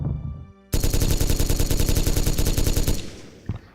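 Big guns in Gettysburg Armored Warfare, a Civil War video game, fire a loud, close, rapid automatic burst of evenly spaced shots for about two seconds, then the sound cuts off.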